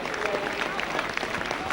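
A stadium crowd applauds rugby league players at a 1996 Castleford versus St Helens cup match, a steady wash of clapping and cheering with a commentator talking over it.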